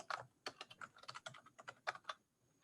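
Rapid, irregular clicking of keys on a new computer keyboard, close and quiet, with continuous bursts of keystrokes and no talking.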